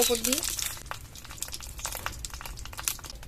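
A banana leaf is pressed down over prawns cooking with green chillies in a pot, giving a close, soft crinkling rustle that fades into quieter crackles.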